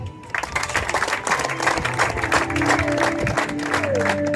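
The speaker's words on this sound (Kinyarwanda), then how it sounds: "mureshya dukoma amashyi menshi cyane" A crowd of villagers at a graduation party bursting into sustained applause, many hands clapping loudly and densely with scattered cheers, while music with tonal notes rises underneath toward the end.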